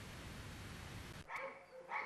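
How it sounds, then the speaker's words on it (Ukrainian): Dogs at a Khmelnytskyi animal sterilization shelter housing about 200 animals, barking loudly; a dense, noisy burst fills the first second, then a few separate nearer barks follow. "200 підопічних Хмельницького притулку стерилізатора зустріли нашу знімальну групу гучним гавканням"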